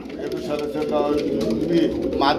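Pigeons cooing in a bird-selling setting, soft throaty coos rising and falling close by, overlapped by people talking.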